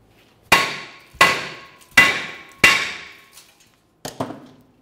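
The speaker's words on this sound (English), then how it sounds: "Now I'll continue with a hammer." A hammer strikes the rear brake rotor of a 2001-2005 Ford Explorer Sport Trac to free it from the axle, with four loud, sharp metallic blows evenly spaced, each ringing briefly, then a pause and a quicker double hit.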